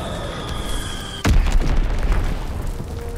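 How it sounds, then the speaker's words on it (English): A bomb dropped from an aircraft detonates in Call of Duty: WWII, one sudden heavy boom after a second of steady battlefield noise, followed by a long rumbling roar that slowly fades. "Dropping split six bomb."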